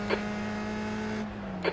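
A race car runs alongside in a USF-2000 racing game at Brands Hatch, heard as a steady engine drone with two brief bursts of tire noise near the start and end.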